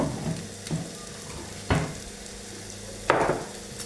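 Eggplant sizzles softly in olive oil in a pan, with a low crackle broken by a few sharp clattering knocks of a utensil against the cookware.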